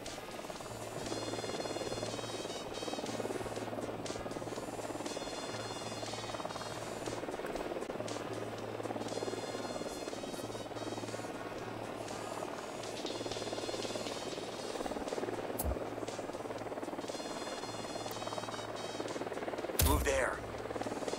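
Drone deployed in a Ghost Recon video game, a steady buzzing rotor whir with a pulsing flutter running under faint game ambience, with talk heard over it.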